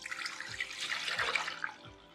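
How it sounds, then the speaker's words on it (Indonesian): A liter of plain water is poured into a container while making a rice-flour pandan layer cake, a close, continuous splashing stream that tapers off near the end. "1 liter air putih, tuangkan ya."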